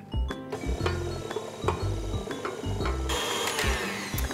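Electric hand mixer beating sugar-free cake batter as dry ingredients are added, a steady motor whir with clinking of beaters against the bowl, close and continuous.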